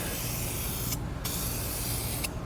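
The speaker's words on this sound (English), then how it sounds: "wow, that is a nice big wide spray pattern" A rattle can sprays paint onto the side covers of a 1979 Honda CB750K, a loud continuous hiss with a brief pause for a second before the spray resumes, close and without talk.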